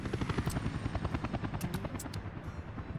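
A helicopter in the city-building game Workers & Resources: Soviet Republic gives a rhythmic rotor chop with a whining engine tone, steady and close, with a few sharp interface clicks above it.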